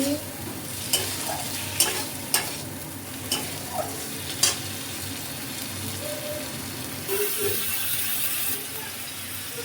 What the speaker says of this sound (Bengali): এটাকে দিয়ে দিলাম একটু নাড়িয়ে নেবো লবণ স্বাদ মতো হলুদ গুঁড়ো সব দিয়ে দিলাম যেরকম কষিয়ে নিচ্ছি